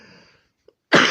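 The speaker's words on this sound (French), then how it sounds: "Excusez-moi, je vais tousser." A single sharp cough bursts out loud and close after a brief silence, following a faint stretch of quiet background sound.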